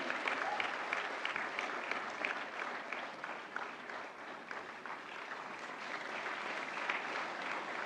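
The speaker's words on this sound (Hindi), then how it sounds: "जोरदार तालियां" Loud, sustained applause from a large audience at the National Film Awards ceremony, a steady, dense wash of clapping that carries on unbroken throughout.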